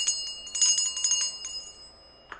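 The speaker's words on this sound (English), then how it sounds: "That deserves a bell ring." A small bell rings with bright, shimmering metallic tones, struck in a quick cluster of strikes that ring out and decay, followed by one faint final tap, with no talk.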